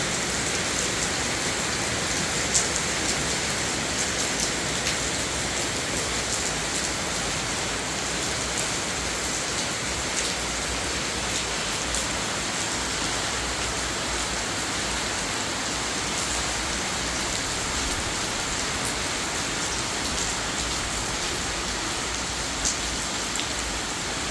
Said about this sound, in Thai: ฝนตกอีกแล้วพี่น้องเปิดบรรยากาศมากเลยเปิดภาพมา ตกอีกแล้ว